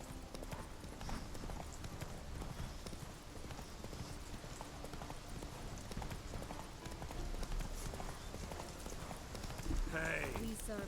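Roach the horse trots in The Witcher 3, a continuous rhythmic clip-clop of hooves under a busy game soundscape with light rain-like hiss, ending in a brief louder flourish.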